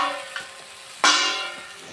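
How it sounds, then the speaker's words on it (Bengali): Ground spices with salt and coriander powder fry and sizzle in a pan with soybean and eggplant, a sharp hiss bursting in midway and then settling into a steady sizzle with faint stirring. "সুন্দর করে এটা আমরা কষিয়ে নিব আগে।"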